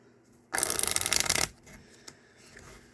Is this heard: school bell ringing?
no